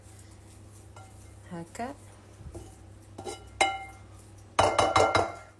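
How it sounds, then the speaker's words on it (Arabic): A spoon scraping and clinking against a pot while stirring moistened wheat couscous, a few short clatters with someone talking in between, the clinks loudest near the end. "بعد ما سقيت الكسكسي انا دوبا باش نحركو شويه"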